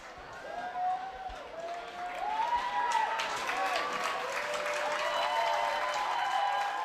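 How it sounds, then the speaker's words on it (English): A stadium crowd cheers and applauds at a 2023 ACC men's college soccer match between Louisville and Virginia, a broad roar of clapping that builds and holds, with rising whistle-like tones and a commentator talking over it. "And the crowd is on their feet."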